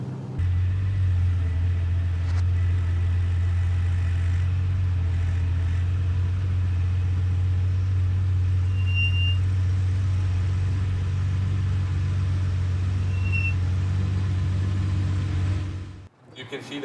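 Ferrari 412 with a damaged clutch driving slowly, a steady low engine rumble and drone that holds evenly for most of the time, then drops away abruptly near the end.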